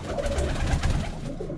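Baku broad-tailed pigeons giving low, soft coos, a brief burst of throaty cooing close by with no talk.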